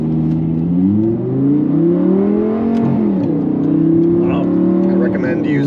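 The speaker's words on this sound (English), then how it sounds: "driving the Audi R8. It's a 2012 V10 R-tronic transmission, and let's start it up" A 2012 Audi R8 with a V10 engine and R-tronic transmission rumbles at close range, its pitch rising and falling in a couple of revs, while someone talks over it throughout.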